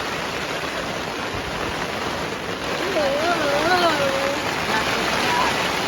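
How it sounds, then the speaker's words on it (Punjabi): Constant heavy rain hiss at a sports tournament ground, steady and close, with a brief whistling or voice-like tone rising over it midway. "ਮੀਂਹ ਤਾਂ ਇੰਨਾ ਪੈ ਰਿਹਾ ਐ"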